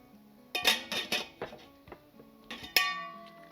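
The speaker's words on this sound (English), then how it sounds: "Stir that all in there." Pasta sauce ingredients being stirred in a metal pot, with a series of close ringing clinks and scrapes of the utensil against the pot in irregular bursts, no voices.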